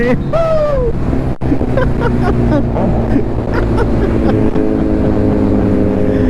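A Kawasaki Z900 superbike races against a GSX-1000, its engine roaring loudly and steadily with rising and falling revs and gear changes amid strong wind rush.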